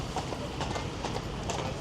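Faint hoof clip-clops from horse-drawn carriages pass by amid a busy outdoor city hum near Big Ben in London on New Year's Eve.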